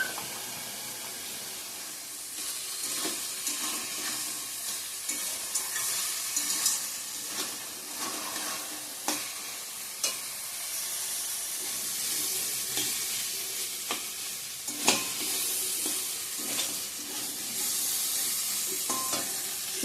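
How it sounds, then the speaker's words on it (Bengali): Spice masala with turmeric fries in oil, a continuous close sizzle with intermittent spatula scrapes and clicks as it is stirred, no voices. "সুন্দর করে কষানো হয়ে গেছে মশলার সঙ্গে, তেলও ছেড়ে দিয়েছে।"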